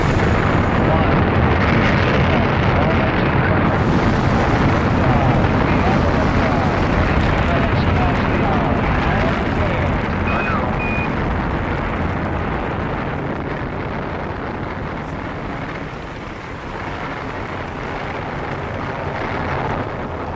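Apollo 11's Saturn V rocket ignites and lifts off in a continuous, overwhelming roar that stays dense and loud throughout and eases only slightly toward the end, with a broadcast voice faintly beneath the rumble.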